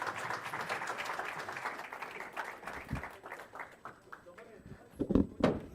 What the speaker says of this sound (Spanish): ¿Por qué no le damos un aplauso a mi papito?